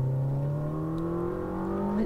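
A Ferrari SF90 XX Stradale engine accelerating steadily, its pitch rising smoothly over a couple of seconds, loud and close with no voices.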